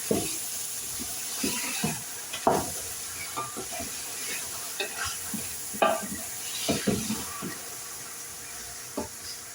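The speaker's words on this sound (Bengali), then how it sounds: "সাদা হলুদ, ভালো করে নাড়াচাড়া করে নিই।" White turmeric is stirred in a frying pan over a constant sizzle, with irregular scraping strokes of the spoon against the pan at close range.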